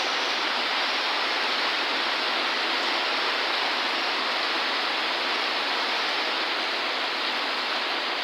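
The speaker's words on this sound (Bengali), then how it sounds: "আমাদের এদিকে তো খুব বৃষ্টি হচ্ছে দেখতেই তো পাচ্ছেন" Heavy rain pours down in a dense, even hiss that holds unbroken and loud throughout, with no voices or other sounds standing out.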